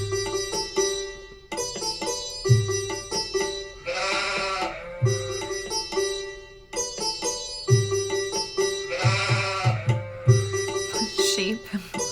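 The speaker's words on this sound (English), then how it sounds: "Sheep." A sheep bleats in short repeated wavering cries that recur every few seconds, looped as a sample inside a hip-hop track with a steady beat and heavy bass throughout.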